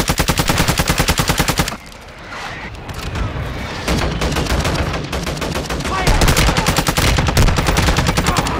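Automatic gunfire in Call of Duty: Modern Warfare II rattles out in fast, loud bursts, then continues as heavier, echoing shots and blasts layered over battle noise.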